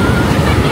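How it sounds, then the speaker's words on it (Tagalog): Strong ocean surf at a cold beach, heard as a steady, loud, continuous wash of waves mixed with heavy wind rumble against the microphone, with no clear speech. "Sobrang lakas ng alon."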